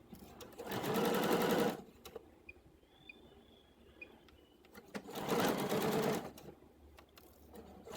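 A sewing machine stitches around a dress neckline in two loud, steady bursts of fast needle chatter, the first about a second long and the second longer. Quiet pauses with faint handling and clicks come between and after them.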